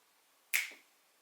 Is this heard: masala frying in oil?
no